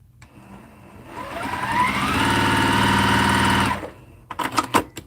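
Sewing machine stitching quilt block pieces, a short burst that rises into a steady close motor whir for a couple of seconds, then stops and gives way to a few sharp handling clicks.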